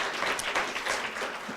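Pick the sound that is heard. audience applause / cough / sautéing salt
audience applause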